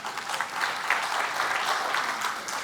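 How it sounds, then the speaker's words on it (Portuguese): An audience at a supermarket business lecture breaks into steady, dense applause, many hands clapping together at an even loudness throughout. "uma salva de palmas daqui para o corintiano daqui"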